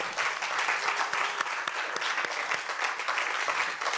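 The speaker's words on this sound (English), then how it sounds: "Can we have another round of applause for Mia and Eric?" An audience at a museum book club talk applauds, a dense, steady round of clapping held at even strength for the whole few seconds.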